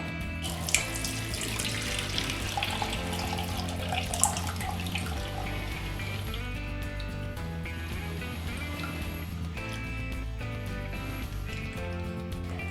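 Wheat milk for Tirunelveli halwa pours and splashes continuously through a strainer into a vessel, a steady watery trickle with small drips, close and fairly loud.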